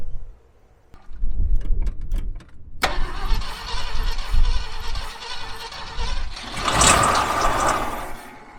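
A junkyard Ford F-100 engine, wired with jumper leads for ignition and fuel pump, cranks in a few short bursts and then catches, running roughly and loudly up close with the fan turning.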